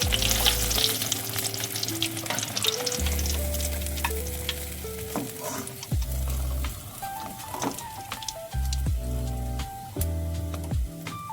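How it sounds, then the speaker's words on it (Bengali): Chicken breast pieces fry in a hot pan with a steady, close sizzle, broken by the intermittent clatter and scrape of stirring through the pan. "এভাবে করে সবগুলো চিকেনের পিসগুলোকে একে একে ভেজে নেব।"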